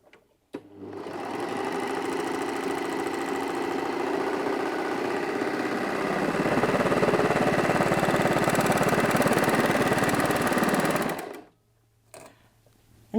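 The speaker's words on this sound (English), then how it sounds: "I'm just going to go ahead and sew the 3-thread rolled" A Brother 4234D overlocker stitching a 3-thread rolled hem, running steadily for about ten seconds with a fast, even mechanical whir, close and loud, then stopping abruptly.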